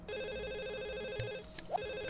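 A telephone in The Sims 1 rings with a steady, evenly repeating electronic trill, fairly quiet and alone, broken by a few short game interface blips.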